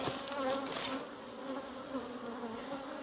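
A dense swarm of honeybees in a hive in a house attic drones steadily, a continuous layered buzz that never lets up, with no voices.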